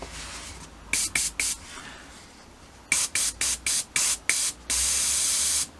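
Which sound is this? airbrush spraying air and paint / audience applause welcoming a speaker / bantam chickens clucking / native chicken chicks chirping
airbrush spraying air and paint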